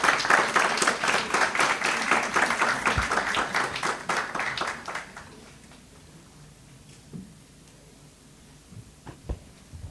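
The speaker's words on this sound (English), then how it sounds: "Now let us welcome Ms. Icha Malla with a huge round of applause." An audience at a Lunchpad 2022 job-guidance event bursts into loud, dense applause for about five seconds, then it fades to a few scattered claps in a quiet room.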